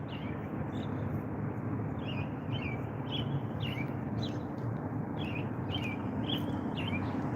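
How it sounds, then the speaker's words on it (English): Small birds chirp in short repeated calls over a steady background hum of wind or traffic, fairly faint and somewhat distant. "Hear the birds singing in the trees."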